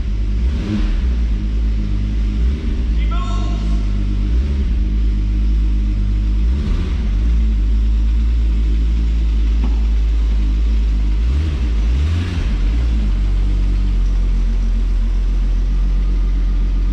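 A turbocharged VR6 wagon with a freshly changed, stiffer clutch drives along, its engine a loud, close, steady rumble that swells with revs, over a continuous heavy low drone.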